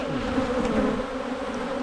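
Honey bees buzzing in an opened hive during an early spring colony inspection, a close, continuous droning hum with a few individual bees flaring louder as they pass near.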